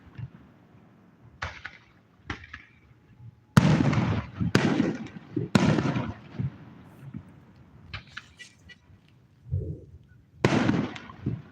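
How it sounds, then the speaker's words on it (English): Fireworks bursting one after another at a Wyoming camp, a series of sharp booms and crackling pops with short pauses between, some loud and close, others fainter. "They've got to run out of fireworks eventually."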